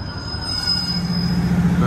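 A passenger train leaving Hazel Grove station rolls along with a sustained high metallic wheel squeal over low rumbling rail noise, steady and fairly close.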